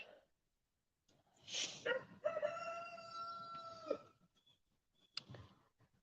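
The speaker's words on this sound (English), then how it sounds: "Do y'all hear my roosters?" Roosters crow close by, one long drawn-out crow with a short call before it, and a dog gives a brief bark near the end, with quiet gaps between.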